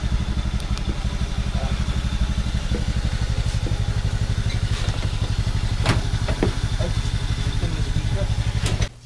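A motorcycle engine idles before an oil change, a steady, close, loud chugging rumble with faint clattering on top that cuts off abruptly at the end.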